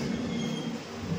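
A passenger train rolling through the Konkan region on the route from Mumbai to Kerala, with a continuous rumble and a steady rail drone heard from on board, moderately loud and without talk.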